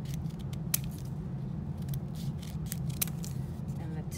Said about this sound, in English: I'm gonna cut this one, cut on that line, and cut the tiny little tip off the end.